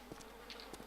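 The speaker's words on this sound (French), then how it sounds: "Oh, il y a des mouches." Flies buzz around a dead body in a survival video game, several short, close whirring passes rising and fading in quick succession over a quiet background, with no talking.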